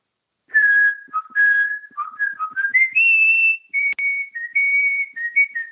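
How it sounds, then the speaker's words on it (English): A woman whistles a Mozart melody solo, clear and close, in a lively run of sustained and gliding notes with short breaths between phrases. "I did a bit of whistling"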